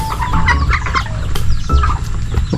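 Pet chickens clucking loudly and close by at feeding time, overlapping short clucks and squawks from several birds over rustling and scratching.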